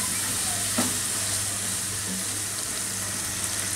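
Chicken rezala with a handful of green chilies sautéing in a pan, a steady close sizzle and hiss of frying throughout, with a soft stirring scrape near the start.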